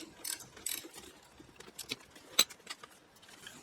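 A hand ratchet tightens the front brake caliper bracket bolts on an Audi A4 during a brake job. It gives a series of sparse, light, close-up clicks and ratcheting bursts spread across the clip, with one sharper metallic click near the end. No one talks.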